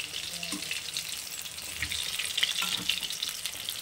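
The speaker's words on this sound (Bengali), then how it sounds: "এরকম লাল লাল করে কিন্তু এটা ভাজা হবে" A flour and potato snack fries in hot oil in a pan, giving a steady, soft sizzle with occasional light crackles and stirring clinks throughout.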